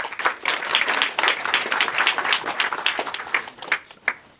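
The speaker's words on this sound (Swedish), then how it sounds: "Varmt välkommen Sara som får en applåd tycker jag." Warm applause from a seated audience at a talk on patient participation in healthcare, with brisk, crowded clapping that holds steady for several seconds before trailing off.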